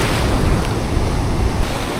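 Strong southwest wind churns the ocean surf on a beach, giving a loud, steady roar of breaking waves mixed with buffeting wind noise on the microphone, with no pauses and no voices.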